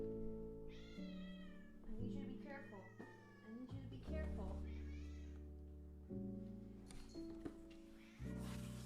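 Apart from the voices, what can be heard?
pet cat meowing behind chair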